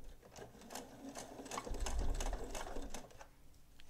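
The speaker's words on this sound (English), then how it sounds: "And then I'm just going to sew this, and I'm going to stay fairly close to the edge," A sewing machine stitches close to the edge of thick layered fabric in quick rhythmic bursts, quiet and close, briefly slowing and thumping harder partway through.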